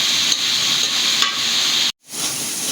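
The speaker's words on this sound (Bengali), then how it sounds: "মশলাটা ভালো করে কষিয়ে নেব" Spice paste for a singhi fish and sponge gourd curry fries in a pan with a loud, steady, close sizzle. Stirring adds texture, and the sizzle cuts out for a moment before resuming.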